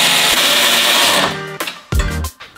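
Power tool tightening the crash bar to the frame on a Ford Focus RS: a steady loud whirring buzz for over a second, then short bursts of impacting rattle with brief gaps between, no talk.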